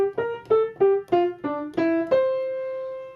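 A jazz melody phrased in straight, even eighth notes, with a run of evenly spaced, separate notes that ends on a long held final tone. The line is clear and alone, with no talking.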